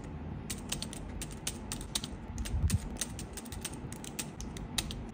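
Rapid keystrokes clatter on a Bluetooth keyboard paired with a Numvibe N90 tablet while typing into a spreadsheet, an uneven run of crisp clicks over a low background hum, fairly close.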